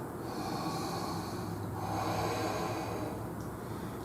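Deep, steady breathing during a prenatal vinyasa yoga side angle pose, slow inhales and exhales forming a continuous breathy wash close to the mic, with no talking.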